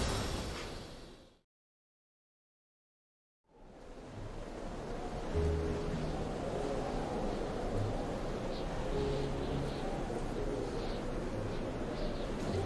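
Ocean waves on the Atlantic shore in the video game Metro Exodus, a broad rushing surf wash after a brief stretch of silence, steady and fairly loud with wind-like noise and no talk.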